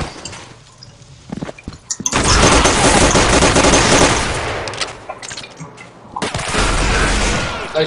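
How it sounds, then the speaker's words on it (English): Rapid automatic gunfire in the Soldier of Fortune II video game, loud, dense bursts crackling close up, with a short pause before a second volley and a few scattered voices underneath. "Nice shot, Ellie."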